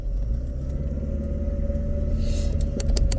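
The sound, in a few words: cars driving past outside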